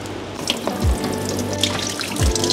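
Running kitchen tap pours steadily while onion leeks are washed under it, with soft splashing and a couple of low thuds as the greens move in the stream.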